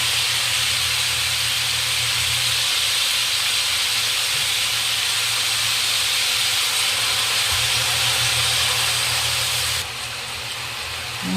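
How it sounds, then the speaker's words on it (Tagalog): A steady, loud hiss of carrots and potatoes frying in hot oil, continuous throughout with a slight drop near the end. "piprituhin din natin, sabay natin ng carrot at patatas"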